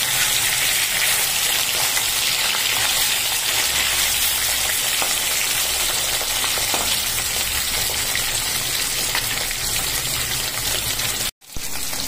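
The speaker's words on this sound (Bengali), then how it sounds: "এবার মাছগুলো ভাজা হোক" Fish, kaju katla, frying in hot oil: a dense, loud, continuous sizzle that holds steady throughout, with a brief dropout near the end.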